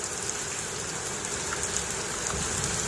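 Steady rain pours during a sudden morning storm in a village in Jhunjhunu, a dense continuous hiss of drops on surfaces, close and fairly loud throughout with no talking.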